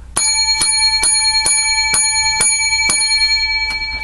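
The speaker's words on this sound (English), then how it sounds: "Lucky seven bells for our show." A small bright bell, like a bicycle bell, is struck repeatedly at an even pace, about one ring every half second, each strike loud and close with a shimmering ring that lingers; no speech.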